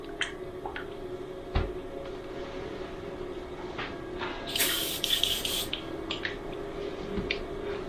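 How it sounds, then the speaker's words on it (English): A Sagola Xtech 400 airbrush sprays FW ink in one quick burst of about a second, a soft airy hiss rising over quiet room tone with small taps and handling noises around it. "So that's the FW inks, sprays it absolutely fine. Quick blast through."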